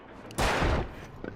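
Gunshot in the Alan Wake video game, a single loud blast with a rough, broadband burst lasting about half a second and then decaying into faint reverberant noise.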